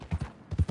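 Horse hooves clip-clop in Red Dead Redemption 2 as a few quick, soft, rhythmic footfalls in two short bursts, fairly quiet and alone.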